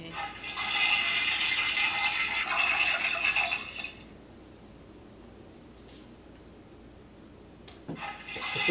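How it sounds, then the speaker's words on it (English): A toilet flush effect from a toy Operation board game, a steady rushing whoosh lasting about four seconds up close, then fading into quiet room tone with a few small knocks. "Toilet flush."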